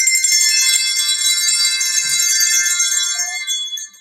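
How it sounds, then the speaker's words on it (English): Small hand bells jingling together as a kindergarten class plays them with a Christmas song, a bright sustained shimmering tinkle close by that thins and fades toward the end, with no talk. "Five little bells hanging in a row."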